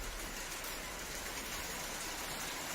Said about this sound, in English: now we're getting hailstones